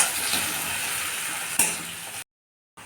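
Chopped onion and tomato fry in a pan while being stirred, producing a continuous crackling sizzle with one sharp utensil clink before the sound cuts off abruptly.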